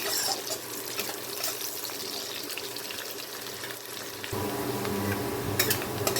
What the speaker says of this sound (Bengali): এখন পেঁয়াজটাকে আমি একটু হালকা লাল করে ভেজে নেব